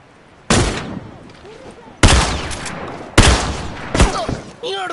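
Sniper rifle gunfire from enemies in The Last of Us multiplayer: four loud, sharp shots at irregular intervals, each followed by a short echoing tail, with brief voice sounds near the end.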